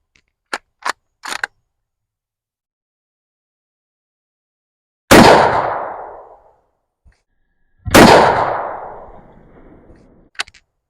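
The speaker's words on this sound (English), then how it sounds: "What we have here is an 1898 Spanish Mauser, shooting 7mm Mauser." Two loud gunshots from an 1898 Spanish Mauser rifle chambered in 7mm Mauser, fired at a water heater; each sharp crack is followed by a long decaying boom, with faint mechanical clicks of the bolt before and after.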